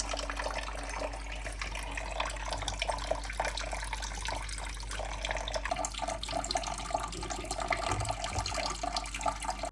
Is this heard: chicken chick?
no